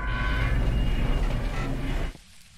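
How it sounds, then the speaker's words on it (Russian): Light rain falls in the horror game Phasmophobia, a steady broadband patter that holds evenly for about two seconds before dropping off sharply to a quieter hush. "И у нас дождь идет. Вот такой легкий."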